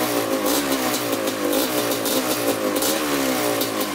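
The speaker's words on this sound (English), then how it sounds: "we're just gonna flip the throttle now. Idling perfect now." A rebuilt Kawasaki Tecate 250 quad ATV engine runs close by with a rough, pulsing mechanical note, rising slightly as the throttle is worked, then settling back to an idle.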